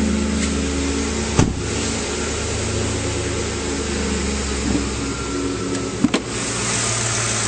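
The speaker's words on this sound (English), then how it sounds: "under the hood, a nice clean engine bay running very smoothly" A 2008 Ford F-150 SuperCrew FX4 4WD flex-fuel pickup idles smoothly with the hood open, a steady low engine hum and whir holding constant throughout, broken by a few brief clicks and knocks.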